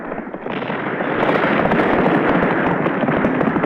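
Dense gunfire and cannon fire from an assault on a fort, heard as a continuous roaring barrage of cracks and booms that builds up and stays loud throughout.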